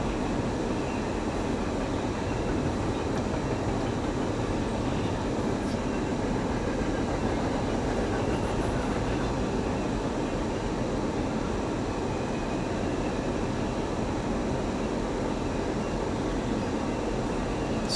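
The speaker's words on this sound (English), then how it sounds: "I was just recording the CNCP train" CNCP freight train rolling past during heavy snowfall, a steady broadband rumble of wheels and cars sustained and fairly close for the whole stretch, with faint rail clatter and no voices.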